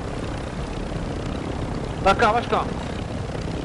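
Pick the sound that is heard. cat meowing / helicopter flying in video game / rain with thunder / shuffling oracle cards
helicopter flying in video game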